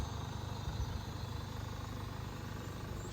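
A 2011 Chevrolet Orlando 2.0 diesel engine idles quietly and steadily, a low even rumble with a faint high whine, no voices.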